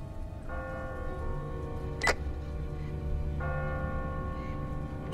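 A church bell tolls twice in a bell tower in The Walking Dead game, ringing strikes with a long sustained hum over a low rumbling background and a sharp click between them.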